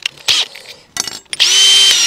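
A power drill with a 10 mm bit bores through the plastic of a VW Crafter van, starting in short loud bursts and then settling into a sustained high whine as the bit cuts.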